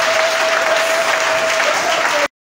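A congregation at a church service applauds in a dense, steady wash of clapping that holds at full level for about two seconds, then cuts off abruptly.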